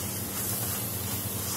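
Masala powder sizzles in a hot pan while it is sautéed for a mutton curry, giving a close, steady hiss with no pause and no voices.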